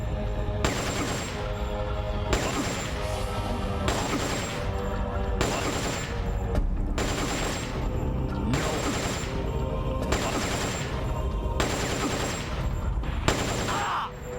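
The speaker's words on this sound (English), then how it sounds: "So we're going to equip the M63 and I'm going to shoot his leg." An M63 machine gun fires in a Metal Gear video game. About nine evenly spaced bursts come in a steady rhythm, each a dense, loud rattle, with short gaps between.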